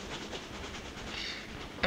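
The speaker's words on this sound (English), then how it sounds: "At 11:02, the train pulled into Blanock station." A train rolling along rails at night as it pulls into a small station, a steady rumbling clatter with a hissy wash throughout and a brief sharp knock right at the end, no voices.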